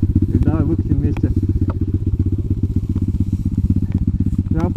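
Izh Planeta 5 motorcycle engine running in gear on a boggy track, a loud, close, rapid low thumping throb that holds steady throughout, with a voice speaking over it.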